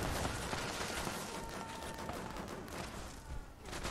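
Rapid, continuous automatic fire from a hacked, cursed weapon in the video game Fallout 76, a dense unbroken burst of shots that stays loud throughout with no pauses.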